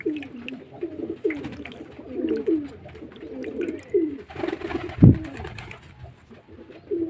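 Domestic pigeons kept for pigeon flying coo in repeated low, throaty phrases, close and steady, with a single sharp thump partway through and no talking.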